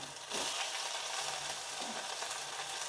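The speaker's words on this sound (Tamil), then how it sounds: "தக்காளி ரெண்டு நிமிஷம் வதங்கட்டுங்க" Tomatoes sauté in a pan for a mutton dish, giving a continuous bright, even sizzle that swells slightly after the opening moment and holds steady at moderate loudness, with no voices.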